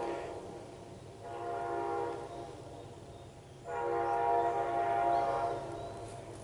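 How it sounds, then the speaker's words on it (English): An Amtrak train passes on a rail line along a trail, sounding two long horn blasts at moderate distance with rumbling wheels beneath, no talk. "And once that train goes by, the Amtrak train right now."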